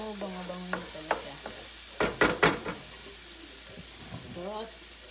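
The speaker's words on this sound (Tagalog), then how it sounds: "ginisang bawang at sibuyas" Garlic and onion sauté in a pan for mung bean soup, a soft sizzle under a cluster of louder clattering stirs in the middle, with a faint voice speaking briefly at the start and end.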